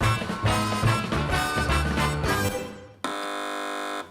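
Busy electronic jingle-like tones end abruptly, followed by a single sustained TV panel quiz show buzzer blast lasting about a second, loud and close.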